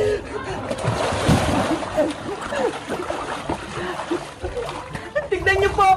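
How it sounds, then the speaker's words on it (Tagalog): Water splashes and sloshes as a child swims in a pool, irregular close splashing and churning under frequent voices of people talking and calling out. "Marunong na po ako lumangoy!"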